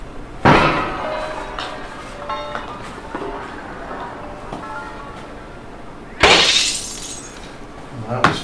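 A golf ball smashes through greenhouse glass panes in two distinct crashes: a sharp shattering burst near the start, then a second, louder one later. Quieter clattering and faint voices come in between.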